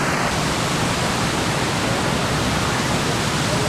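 Meethirigala waterfall pouring with a constant, close, loud rushing roar, an unbroken wash of water noise from start to finish.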